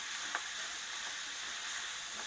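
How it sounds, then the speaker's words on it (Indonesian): Minced pork stir-frying in a pan makes a steady, close hiss of sizzling fat with faint soft scrapes, with no voices. "Lalu kita tumis nih, tumis-tumis dagingnya tuh."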